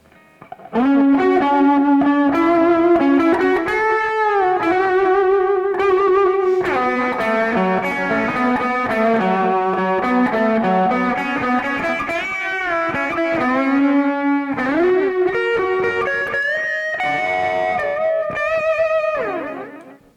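An electric guitar through a reverse delay effect plays a sustained phrase from a song's solo, with swelling, backward-sounding notes that fade in rather than pluck, continuous and fairly loud with no talking.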